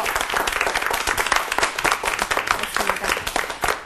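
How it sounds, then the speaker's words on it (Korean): A hall audience breaks into sustained, dense applause to welcome a guest speaker, an honorary professor from Yonsei University's Graduate School of Public Administration, with steady clapping close by and filling the room with no one talking. "큰 박수로 맞이해 주시기 바랍니다"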